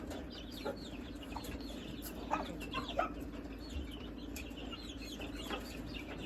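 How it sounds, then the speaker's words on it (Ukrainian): Hens clucking inside a barn, with soft overlapping clucks and a few louder calls standing out over a steady background murmur of the flock, heard from close range. "і кури в сараї сидять"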